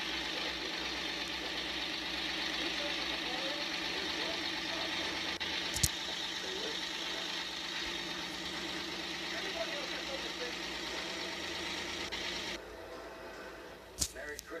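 Virtual car engine in a Roblox fire department roleplay game hums steadily while driving, a continuous mid-pitched drone with a couple of sharp clicks near the end.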